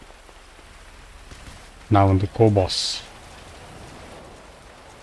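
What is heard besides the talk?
rain falling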